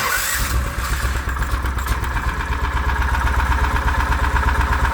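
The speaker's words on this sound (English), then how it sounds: "Wow, it's running and idling." A Predator 420 small engine, swapped into a Hisun Strike 4x4 with modified camshaft and exhaust, catches and settles into a fast, steady, unadjusted idle, a close, buzzy putter that runs evenly throughout.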